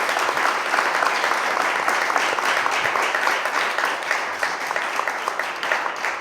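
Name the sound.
audience applause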